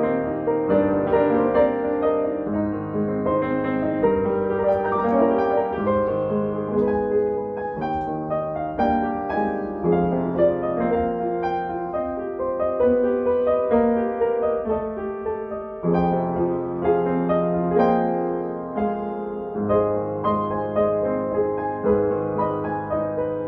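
A used Eisenberg upright acoustic piano plays a continuous, richly voiced passage of chords and melody, full and resonant in a room, with no talking throughout.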